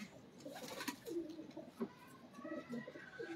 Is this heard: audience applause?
no